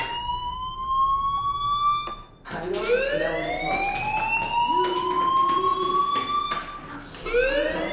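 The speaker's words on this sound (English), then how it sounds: "do you hear that fire alarm? That means you should be outside." A loud electronic fire alarm in the video game Life is Strange wails in rising, sweeping tones, repeating over and over with brief breaks, steady and close throughout.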